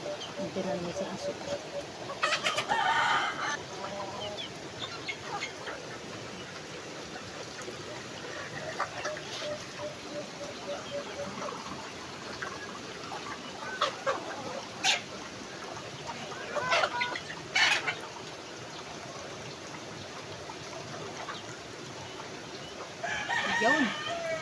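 Chickens and a rooster crow and cluck in short bursts around an outdoor cooking spot where eel is being prepared in coconut milk, mixed with other background sounds and some faint voices.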